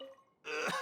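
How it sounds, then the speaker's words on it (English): A video game character gives one short raspy cough or throat-clear, close and fairly quiet, following a brief soft lead-in. "They do a really good job, the voice actors, of coughing and hacking and stuff"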